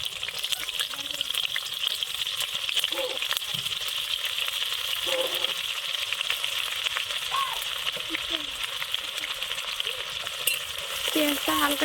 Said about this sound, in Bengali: তেলটা গরম হয়ে গেছে, এখন আমরা পেঁয়াজ কুচানো দিয়ে দেবো।